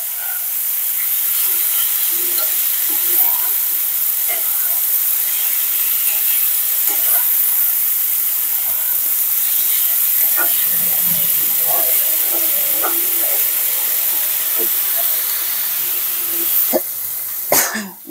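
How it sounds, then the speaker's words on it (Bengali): Turmeric powder is stirred as it fries in a hot pan, giving a loud, continuous sizzling hiss. Scattered small clicks and scrapes come through it, with a sharper knock near the end. "বেশ সুন্দর করে এখন নেড়ে নিচ্ছি।"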